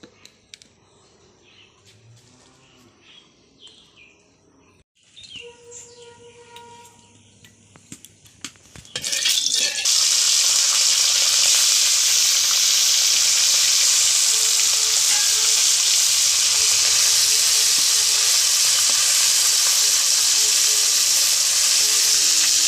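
Morola fish frying in hot oil for a fish curry in a home kitchen, a loud, steady hiss and crackle that bursts in suddenly and holds continuously, after quieter clattering, with faint birdsong in the background.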